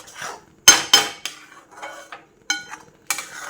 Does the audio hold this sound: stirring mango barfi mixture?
yes